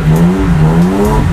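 A car engine revving hard while drifting on a track, a steady loud mid-pitched drone with rising and falling pitch sweeps, close and continuous with no talk.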